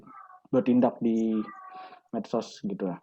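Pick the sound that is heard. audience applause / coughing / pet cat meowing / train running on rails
pet cat meowing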